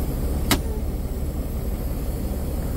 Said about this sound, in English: Is your truck making a hissing sound just like mine is right here and it's coming right from these knobs?